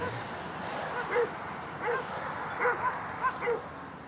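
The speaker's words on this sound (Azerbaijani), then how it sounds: "Çoban itləri." Shepherd dogs on a rural road in the Lerik area of Azerbaijan bark and yip several times in short separate bursts. They sound at moderate distance over a steady roar of wind and road noise.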